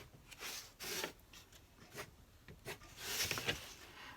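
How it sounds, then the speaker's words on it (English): A brush scraping across watercolor paper, a series of short dry rasping strokes, faint and close, coming in irregular bursts with no voices. "you can once again practice that scraping"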